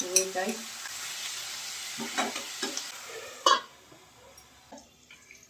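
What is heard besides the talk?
chopped garlic, ginger and onion frying in a pan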